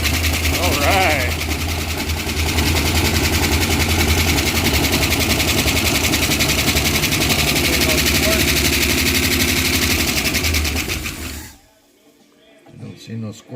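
A 1968 Dodge wagon engine, left neglected for 25 years, fires and runs at a loud, steady, rough idle for about eleven seconds before cutting off. A voice talks briefly over it and again after it stops.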